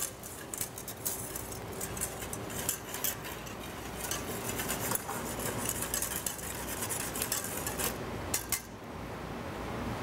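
Hot chocolate stirred steadily in a pot as it nears the boil, a continuous scraping and clinking of utensil against metal with faint ticks, close up and without talk.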